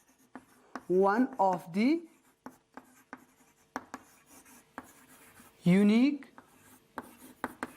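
Notes are written in points on a classroom board during a botany lesson, light scratching and tapping strokes running under a teacher's lecturing voice.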